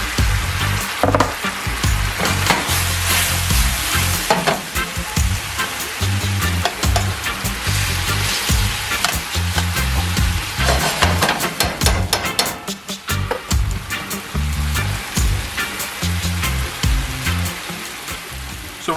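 Cooked bacon goes into a hot pan for jerk shrimp and grits, setting off a loud, steady sizzle and fry with stirring clatter throughout, no voices over it.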